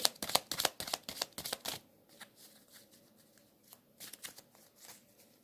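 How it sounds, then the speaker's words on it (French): A deck of Petit Lenormand cards being shuffled: a quick burst of crisp riffling flutters at first, then softer, scattered card slides and taps, close and fairly quiet, with no speech. "Alors je rajoute 3 cartes du petit Lenormand pour voir un petit peu."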